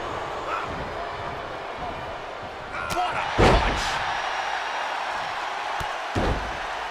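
A wrestler is slammed onto the mat during a wrestling match, landing as a sharp, heavy thud over a steady crowd roar, with a second impact a few seconds later and commentators talking throughout.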